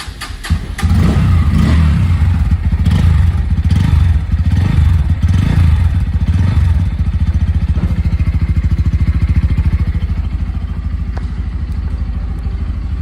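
A Bajaj Pulsar N160 (2024, 160cc) motorcycle engine starts and runs loud and close, revving in uneven bursts before settling into a steady rapid idle putter.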